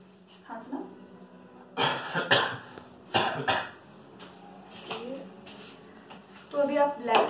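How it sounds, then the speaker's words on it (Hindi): A patient coughing during a medical examination, several harsh coughs in short bursts close to the microphone, with quieter moments and some throat sounds between them. "खांसना।"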